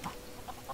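A chicken in the video game LEGO Worlds gives a few short, soft clucks, faint and brief, spaced out over less than a second.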